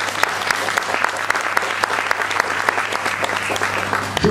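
Audience at a theatre play breaking into loud, sustained applause, dense clapping that continues steadily throughout with scattered sharper claps.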